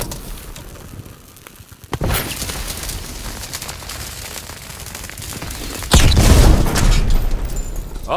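Explosions in the Call of Duty WWII D-Day mission as a cannon is blown up with thermite: a sharp blast near two seconds, a rumbling aftermath, then a louder, deeper boom with debris around six seconds.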